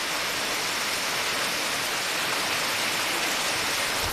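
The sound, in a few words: rain falling in Konkan village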